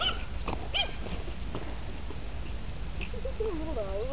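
Small dog, a Schipperke or Yorkie, whimpering while playing outside on grass, with soft whines rising over steady background noise and occasional nearby voices.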